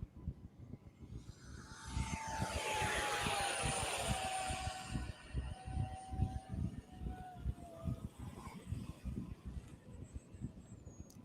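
An RC airplane with a 64 millimeter ducted fan setup takes off, its rising whine sweeping past and fading, over a steady rhythmic thumping in the background.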